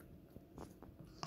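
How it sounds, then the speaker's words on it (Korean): A Shih Tzu eating food from its bowl with its nose buried in it, giving faint, close, irregular crunching and chewing bites over a quiet background. "이렇게 얘가 지금 코박고 먹는 모습이 너무 귀한데"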